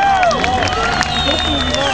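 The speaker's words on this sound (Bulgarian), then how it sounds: "Изпращаме го с бурни аплодисменти, уважаеми приятели!" Spectators at a drift show in Sofia applaud and cheer in a loud continuous roar, with an amplified voice talking over it and whining car engines sweeping up and down beneath.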